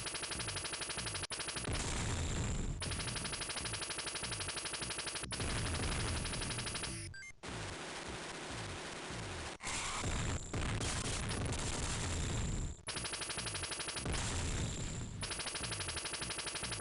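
Sustained gunfire against the last boss in the Sega Genesis game RoboCop vs The Terminator: rapid, continuous machine-gun bursts hammer on with brief gaps, loud and harsh with no voices.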